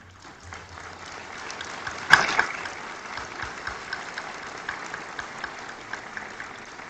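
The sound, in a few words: thunderous audience applause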